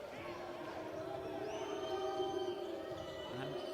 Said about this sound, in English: Crowd continue to bring the noise.